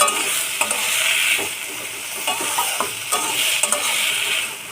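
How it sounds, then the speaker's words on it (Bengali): Spice masala and young jackfruit sizzle in a hot pan as they are stir-fried, a bright continuous crackle broken by repeated spatula scrapes and knocks, close and with no voices. "রাখা এঁচড়গুলো দিয়ে দেবো। এবার মশলাটা ভালো করে কষে নেব।"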